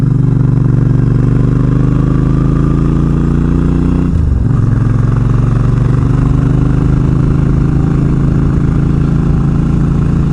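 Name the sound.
motorcycle engine while riding in Oregon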